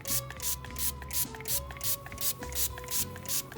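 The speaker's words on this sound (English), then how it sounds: "This little spray bottle doesn't spray very much." A small spray bottle spritzes apple juice onto 3-2-1 ribs: about eight quick, breathy hisses in a steady rhythm, close and fairly soft, over a faint tonal background hum.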